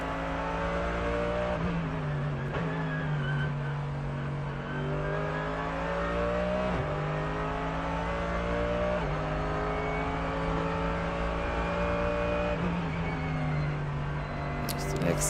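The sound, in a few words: V8 race car engine, Nürburgring 24 Hours race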